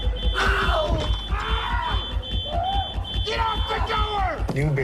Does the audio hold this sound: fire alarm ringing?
yes